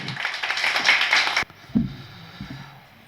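Audience applause welcoming a guest speaker at an astrology talk, a brief patch of many hands clapping that cuts off sharply, followed by a few faint bumps and quiet room tone.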